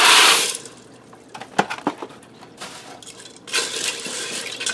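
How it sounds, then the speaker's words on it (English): Dry elbow macaroni from a one-pound box is poured into a pressure cooker, heard as a rushing clatter at the start, then scattered light ticks and rattles, and a second rustling pour near the end. "Now I have a 1-pound box of elbow macaroni. I'm going to get that into the pressure cooker."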